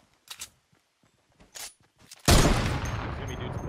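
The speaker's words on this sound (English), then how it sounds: "Oh, there's someone shooting at me." Gunfire in Fortnite Battle Royale: after a few soft clicks and taps, a sudden loud burst of shots erupts and continues as dense, rattling fire.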